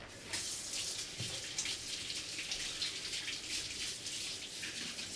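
Tap water runs steadily into a sink while a blender part is rinsed, a close, continuous splashing hiss with no one talking.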